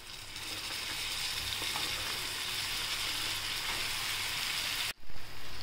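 Cowpea pods fry in a pan with salt, giving a steady, close, dense sizzle that holds evenly throughout, ending in a brief break and a couple of muffled bumps.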